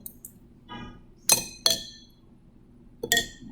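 A jar from a fermentation experiment is stirred, producing sharp glassy clinks and taps against the glass, spaced irregularly with quiet gaps between them, close and fairly loud.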